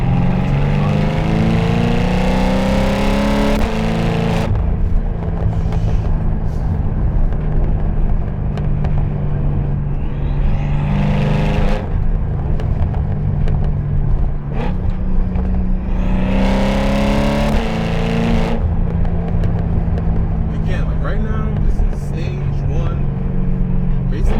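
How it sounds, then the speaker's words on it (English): A BMW F10 M5 with the S63 engine accelerating, its exhaust roaring loud and close as the revs climb repeatedly, dropping at each gear change, with a voice talking over it. "just enjoy the symphony that is the S63 engine"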